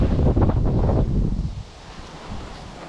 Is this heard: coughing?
no